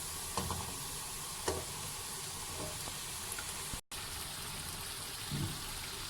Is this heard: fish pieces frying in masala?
yes